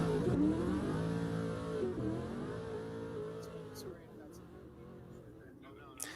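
A custom livery Corvette drift car's engine in a racing simulator drift event, revving and holding high pitch then dropping, with tire noise, while a commentator talks over it.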